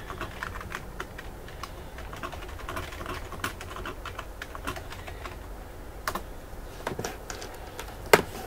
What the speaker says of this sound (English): Sorry about all the mouse noise and keyboard noise.